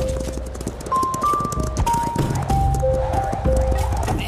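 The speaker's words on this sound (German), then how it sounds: "Wir galoppierten weiter Richtung Süden." Cartoon horses galloping, a quick rhythmic clip-clop of hooves under a melodic musical score and speech.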